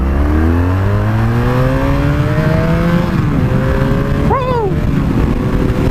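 An old BMW motorcycle engine with freshly cleaned carburetors revs hard and loud up close, the pitch climbing steadily, before a man's excited whoop cuts in near the end.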